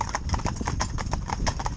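A stallion and two geldings driven in harness in a tandem hitch clip-clop with quick, steady, overlapping hoofbeats, close and clear.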